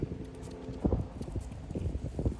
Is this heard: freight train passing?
no